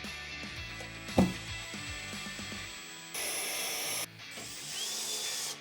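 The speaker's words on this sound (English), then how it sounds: "I'm just going to be really gentle with the drill." A power drill whirs in short bursts, preceded by clicking ratchet sounds, the motor steady and close with pauses between runs.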